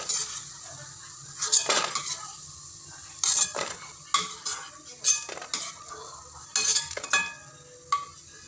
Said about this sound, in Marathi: आणि आता आपण तळून घेऊया.